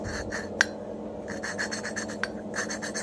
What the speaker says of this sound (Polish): Na początku polecam sobie robić ręczne obroty powoli, tak żeby ta pasta fajnie się ułożyła.